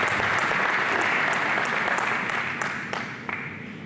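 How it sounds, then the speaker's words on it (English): Loud, dense applause from a ceremony dinner audience at a Hall of Fame event, a steady wash of many hands that tapers slightly toward the end. "How about a round of applause for Seasons Catering for our wonderful meal?"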